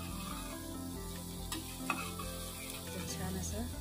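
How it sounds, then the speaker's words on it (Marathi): Soya chunks being stirred and roasted in a masala coating in a pan for soya pulao. A constant sizzle plays under repeated scraping stirs, with occasional light knocks of the spoon. "तोपर्यंत त्याला मिक्स करत राहायचं आणि खाली लागू नये म्हणून त्याला सतत हलवत राहायचं"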